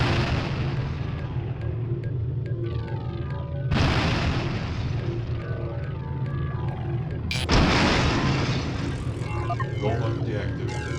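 Retro robot game Terraformers: two heavy bazooka blasts, each a sudden loud boom over a constant droning engine-like hum, with a synthetic voice speaking throughout.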